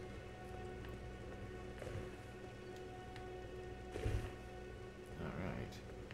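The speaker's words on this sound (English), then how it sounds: "Oh, it's raining." Steady rain falls across a video game world with weather systems, a soft continuous patter over a low ambient bed, with brief louder swells near the end.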